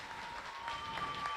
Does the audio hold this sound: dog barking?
no